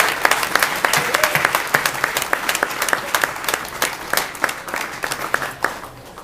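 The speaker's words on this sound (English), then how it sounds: "Can we get a round of applause for Amber" A crowd at a film festival opening ceremony in Hollywood claps in thick, lively applause. Sharp individual claps stand out from the continuous wash of sound throughout.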